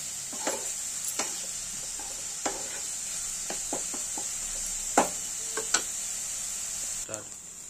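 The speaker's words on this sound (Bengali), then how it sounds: "লঙ্কা কুচি, আদা কুচি। এগুলোকে দিয়ে ভালো করে একটু হালকা লাল করে ভেজে নেব।" Chopped green chili and ginger sizzle in hot oil in a pan under a steady high hiss, with frequent sharp scrapes and clicks of a spatula stirring. Nearby sounds stay fairly quiet.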